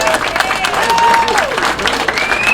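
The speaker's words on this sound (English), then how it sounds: "The crowd appreciates it." A crowd at a candlepin bowling match applauds warmly, steady dense clapping in the hall while a voice speaks over it.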